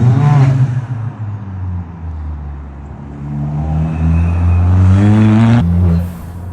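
An engine-swapped 350bhp Ford Fiesta ST, running a single back box, revs loudly nearby: a throaty, rising and falling exhaust note held for several seconds before it drops off sharply near the end.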